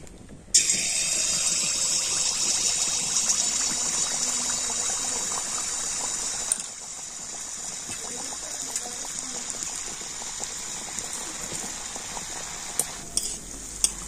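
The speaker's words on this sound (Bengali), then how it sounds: "আর এবার আমি 1 হাতা ব্যাটার নিয়ে তেলের মধ্যে দিয়ে দেব" Pitha batter sizzles as a ladleful drops into well-heated oil, a sudden steady frying hiss that stays loud and continuous with a brief dip partway through and a few crackles near the end.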